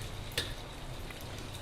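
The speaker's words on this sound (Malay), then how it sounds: "Alright, kita goreng lagi 2-3." Cucur jawa fritters frying in hot oil, a steady close crackling sizzle with a few sharper pops, no voices.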